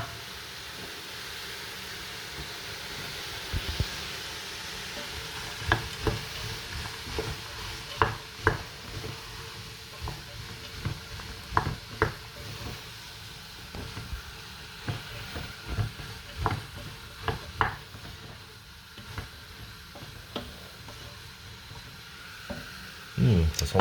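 Cut green beans cooking in a pot for French pistou soup, a steady soft simmering hiss broken by repeated sharp clinks and knocks of utensils against the pot, with no voices.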